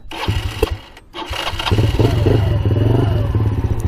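A broken quad ATV, repaired and out on a test ride, idles and runs with a steady, close, clattering engine drone that rises slightly as it settles into a continuous rumble.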